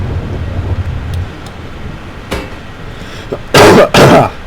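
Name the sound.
cough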